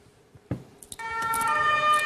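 German Martinshorn emergency vehicle siren in its city mode starts up after a few soft clicks and knocks, then holds a loud, steady two-tone electronic wail.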